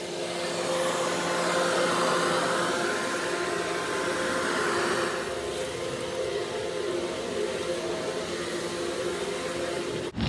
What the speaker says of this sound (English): this part here is the leaf blower attachment. You put that on like that, and now you go blow, a wide range of leaves.